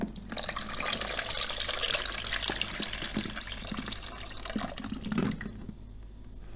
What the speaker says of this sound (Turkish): Evet, zeytinimizin suyunu süzdük.